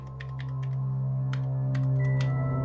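Keys tapped on a computer keyboard in short irregular bursts, fairly close and clear, over a steady low electronic hum with no talking.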